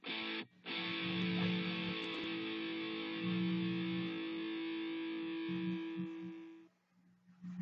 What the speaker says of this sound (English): Distortion is used widely in rock and punk guitar playing and is used to change the tone of an instrument.